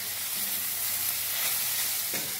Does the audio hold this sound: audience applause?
no